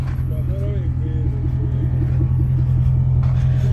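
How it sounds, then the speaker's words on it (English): A Lexus V8 engine idles with a loud, steady low rumble, while voices talk over it. "it's a Lexus V8"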